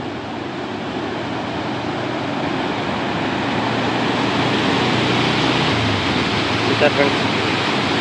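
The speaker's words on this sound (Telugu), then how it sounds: "ఎంత వాటర్ పోతున్నాయి, ఎంత ఫాస్ట్ ఉన్నాయి ఇక్కడ" Fast water rushes through a canal from Kandaleru Dam as a loud, steady broadband roar, with a brief spoken remark near the end.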